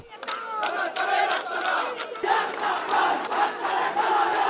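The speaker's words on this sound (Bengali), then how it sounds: "এ সময় মুখোমুখি অবস্থান নিয়ে পাল্টাপাল্টি স্লোগান দিতে থাকে দুপক্ষ" Rival student groups at Dhaka University's TSC chant slogans face to face, a loud, dense crowd of voices rising in rhythmic shouted bursts that continue without pause.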